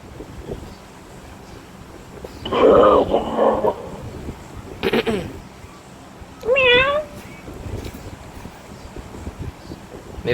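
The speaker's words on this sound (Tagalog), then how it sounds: "May pusa oh." Outdoors in wind, a cat gives several loud meows, a drawn-out pair, a brief cry and a clear rising meow, over breezy background noise.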